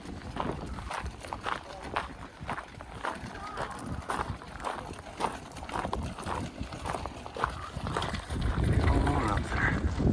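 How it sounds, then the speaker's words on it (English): Horses walking on a farm as the day's work wraps up, their hooves clip-clopping in a steady uneven rhythm close by, with people talking over the sound and background farm noise. "Everyone wrapping up for the day, putting horses away."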